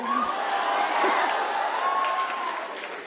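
Audience applause at a Hindi kavi sammelan poetry recital, a dense wash of clapping from a crowd that holds steady and then eases slightly, with a faint voice over it.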